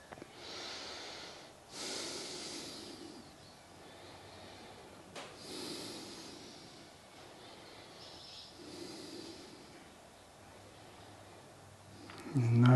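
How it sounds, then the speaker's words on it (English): Slow nasal breathing in and out through the nostrils during a calm yoga class, soft airy breaths repeating every few seconds, close and quiet. "Noticing the breath as it flows in, flows out through the nostrils."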